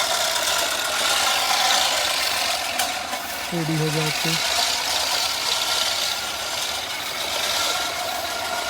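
A steady, loud drone from an 855 tractor engine straining in rain-soaked ground runs throughout with a mechanical rattle, and a voice speaks briefly near the middle.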